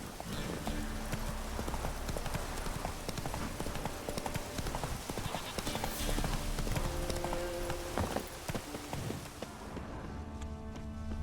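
Rhythmic hoofbeats of the horse Roach galloping in The Witcher video game, a steady clip-clop over continuous game ambience and music, loud and close throughout.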